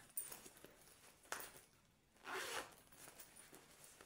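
A zipper on a handbag is pulled open and shut in a few quick, quiet zips, with soft handling rustles in a calm room.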